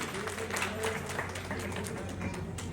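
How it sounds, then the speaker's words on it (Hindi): Steady applause from an audience at an awards ceremony, dense clapping held at an even level throughout with no pauses. "एक बार जोरदार तालियां"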